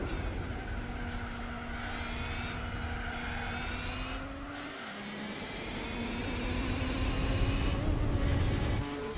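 Race cars chase a Pagani Zonda in Gran Turismo 4 at a Dream Car Championship race: close, loud engine whine with rising and falling pitch through gear changes, a brief dip, then revving back up.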